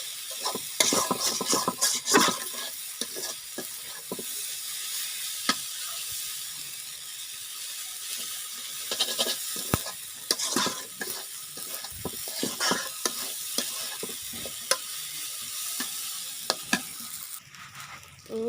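Semai vermicelli frying in a pan while being stirred, with a continuous close sizzle and repeated scraping, clicking strokes of a spoon against the pan over about eighteen seconds, no voices.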